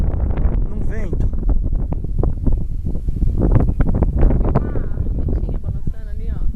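Strong wind buffets the microphone steadily while a kite is flown outdoors, a rough continuous roar heard under nearly constant talking.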